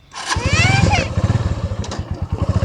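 A motorcycle engine idles with a steady, rapid thumping putter, while a person talks briefly over it at the start.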